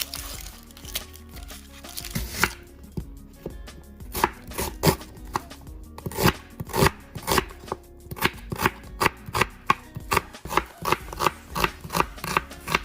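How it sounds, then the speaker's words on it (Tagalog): Garlic and onion are chopped with a knife on a cutting board while ingredients are prepared for a seafood pasta sauté, producing a long run of quick, close, sharp chops in uneven bursts with brief pauses. "Just chop in, followed by our onion"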